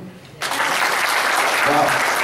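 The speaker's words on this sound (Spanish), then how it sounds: "Lo primero el aplauso, ¿no?" Audience applause after a medical presentation on retinitis pigmentosa, breaking out suddenly after a short quiet moment and continuing as loud, dense clapping, with a voice heard briefly over it.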